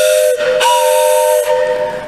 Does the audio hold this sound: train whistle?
yes